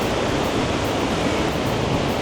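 Iguazu waterfall in Brazil roaring up close, a dense, steady broadband rush of falling water that holds at a constant loud level throughout with no voices.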